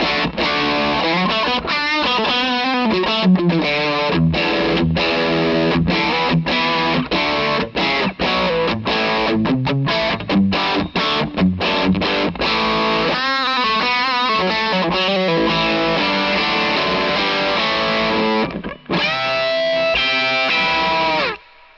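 Crunchy overdriven electric guitar through a Tube Screamer-style pedal with boost engaged into a Marshall amp plays a continuous riff of chords and single notes for over twenty seconds, loud and saturated, with no voices.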